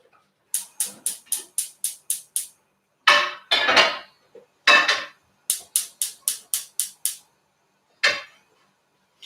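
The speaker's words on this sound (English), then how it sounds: "I'm going to get the grills on now for the tomahawk pan and the chip pan" Metal pans set down on a grill for tomahawk steak and chips, heard as sharp clanks and clinks in quick bursts of rapid taps, with a few heavier scraping knocks between them, close and fairly loud with no talk.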